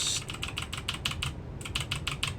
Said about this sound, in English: makes a good sound, this keyboard. It's got a good clack to it.